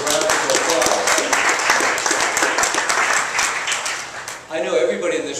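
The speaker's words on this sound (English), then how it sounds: "So if everybody would give yourselves a round of applause." A room of people applauds at a health policy briefing, sustained clapping that dips and swells again near the end, with voices mixed in underneath.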